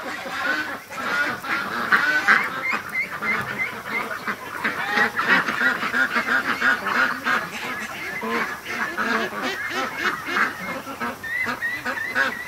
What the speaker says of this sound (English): 100 ducks just went to the lake.